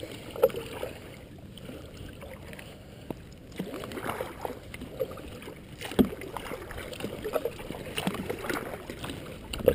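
A wooden boat on its maiden voyage moves down a river, with soft, continuous water lapping and gurgling around the hull and scattered light knocks and splashes, quiet and close.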